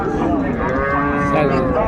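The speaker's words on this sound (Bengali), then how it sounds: "সুন্দর গাভি বাছুর" A dairy cow with her calf moos loudly and close by at a cattle market, one long drawn-out low call.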